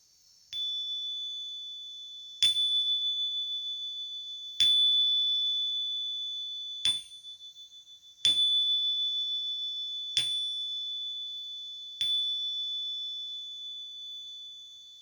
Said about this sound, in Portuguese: vamos tocar o nosso sininho